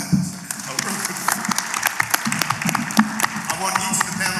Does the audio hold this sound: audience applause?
yes